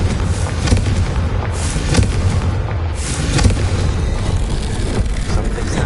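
Confringo blasting spell cast in a wizard video game, a dense loud barrage of booming explosive blasts and crackling bangs that continues without pause.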